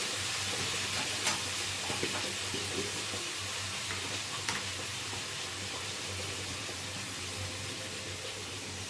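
Chopped tomatoes frying with salt and turmeric in a pan over lowered gas, a steady soft sizzle with faint scrapes and light clicks, no talking.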